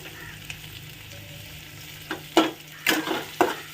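Onions softening over low heat in a pan with a pinch of salt, a soft continuous sizzle rising into several louder stirring scrapes near the end, close up.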